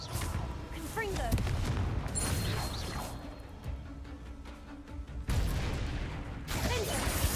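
Confringo fire spells cast during Hogwarts Legacy combat burst out in sharp blasts and crackling impacts amid chaotic spell effects and whooshes, while a voice shouts spell names over the action.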